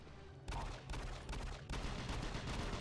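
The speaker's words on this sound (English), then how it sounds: "He has a machine gun!" Sustained machine gun fire in the video game DOOM 3, starting abruptly after a short quiet moment and continuing as a dense, rattling barrage with a brief break.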